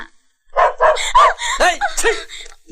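A dog in a film scene lets out a quick run of sharp, loud barks and yips close by, about half a dozen bursts after a brief quiet start.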